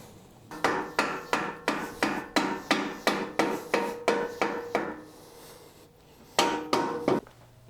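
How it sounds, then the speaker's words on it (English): A rubber mallet taps a bolt through a thickly painted bolt hole on a lightweight adventure motorcycle during assembly: a quick run of about a dozen evenly spaced, close knocks, a pause, then a few more. "I'm just gonna use a rubber mallet to help it get through here."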